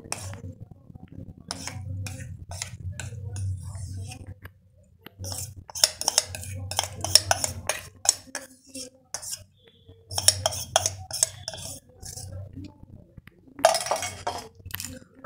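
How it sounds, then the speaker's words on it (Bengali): Soaked, swollen semolina is stirred into a cake batter with melted sugar in a bowl, making a spoon's intermittent clinks and scrapes against the bowl in bursts separated by short pauses. "আবারও ভালো করে মিশিয়ে নিতে হবে যাতে করে সুজিতে দলা পাকিয়ে না থাকে।"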